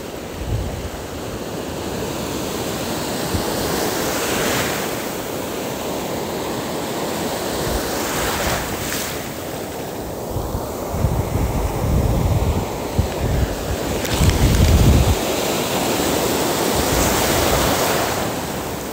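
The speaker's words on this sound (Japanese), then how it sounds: "あー波ちょっと強くなってきたぞ" Strengthening ocean surf breaks along the Kashima-nada beach in Japan as a loud, continuous roar of churning waves, with heavier crashing surges rolling in every few seconds and no voices.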